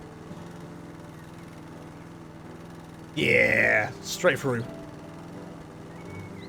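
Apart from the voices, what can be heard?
lawnmower running in the video game House Flipper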